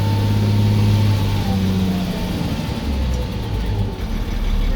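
Truck engine running while driving, heard from inside the cab: a steady low rumble with droning engine tones that shift slightly in pitch, constant and fairly loud throughout.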